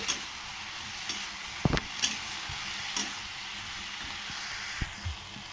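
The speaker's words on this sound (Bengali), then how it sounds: "ভাজতে ভাজতে কিছু রস ছাড়বে, এই রসগুলো ভালো করে শুকনো করে ভেজে নিতে হবে।" Drumstick flowers frying in a pan as their moisture cooks off, a continuous hissing sizzle with occasional clicks and small knocks of stirring, no voices.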